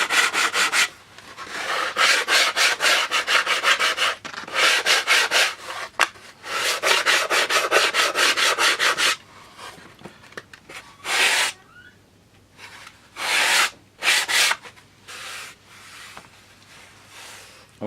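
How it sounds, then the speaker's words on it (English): A sanding block is rubbed in long, rhythmic back-and-forth strokes along the wooden fuselage sides of a Coyote model aircraft build. The strokes are loud and close, in bursts with short pauses, then thinning to scattered passes. "we take a sanding block like this and just sand the sides so that the sides and the top are level"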